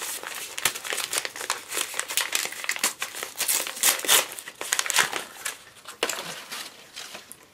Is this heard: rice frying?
no